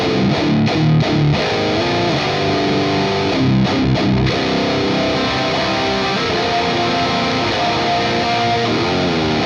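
A distorted electric guitar runs straight through a Joyo BanTamp amp with no added effects, playing loud, steady chugging metal riffs with a few brief pauses and stops early on.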